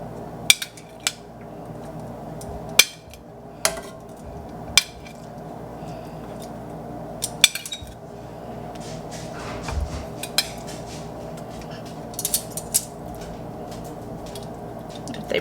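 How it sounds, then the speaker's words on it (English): Meatballs set one by one into a pan of sweet and spicy sauce, giving sparse light clinks and soft knocks of cookware and utensils against quiet kitchen background, with no talking. "just kind of get them situated into the pan so that they all fit nice and snug in there"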